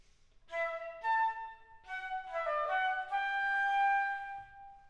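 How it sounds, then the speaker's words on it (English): Solo flute plays two measures of a Telemann passage as originally written, a clear melodic line of sustained notes with a few separate phrases, close and bright with no talking. "So let me play you the way that Telamon has originally written these two measures."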